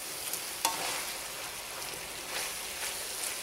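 Cauliflower and potato sabzi gets stirred in a pan with chopped green herbs, giving a soft, continuous scraping and gentle sizzle with a single sharper knock of the spoon, quiet and close.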